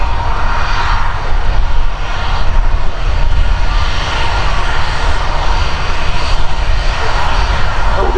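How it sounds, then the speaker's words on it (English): An Airbus A321 jet begins its takeoff roll at Manchester Airport, a loud, steady engine roar with a deep rumble and broadband whoosh, sustained throughout without speech. "Just starting its takeoff roll is the Airbus"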